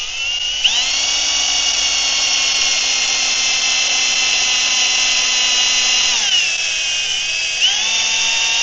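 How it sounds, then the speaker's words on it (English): Power drill boring a hole through steel armor plate for a logging truck, whining steadily and loudly at high pitch, dipping in speed twice near the end. "Tell you what, I'll drill this hole."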